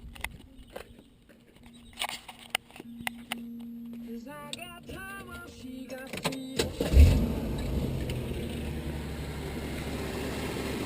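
A Jeep fitted with a new distributor and coil cranks and fires at about seven seconds, then settles into a steady, loud idle close by, after quieter clicks and a brief whine.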